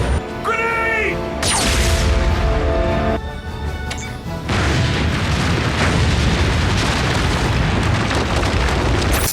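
A grenade blows up in an animated Transformers scene, a heavy boom followed by a sustained roaring, crackling blast that fills the remaining seconds.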